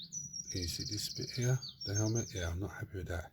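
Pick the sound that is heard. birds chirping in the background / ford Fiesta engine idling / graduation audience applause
birds chirping in the background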